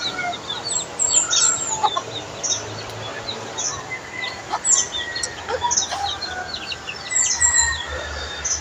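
Chicks peep in high, quick bursts while hens cluck nearby on a small Philippine farm, with repeated bird calls over a low, steady background and no talk.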